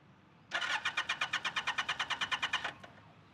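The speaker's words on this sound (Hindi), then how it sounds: "स्टार्ट नहीं हो रहा, इसलिए अधूरा रहेगा ना कि इसके अंदर पेट्रोल ही नहीं डाला हुआ" A brand-new single-cylinder motorcycle with no petrol in the tank cranks repeatedly on the electric starter, a steady rapid whirring pulse of about twenty beats that never catches, then stops; fairly close with no talking.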